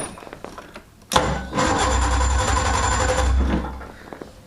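Craftsman DYT4000 lawn tractor engine cold starting: a sharp crank burst, a brief pause, then the small engine catches and runs loud and close with a rough, buzzing idle for about two seconds before cutting back down.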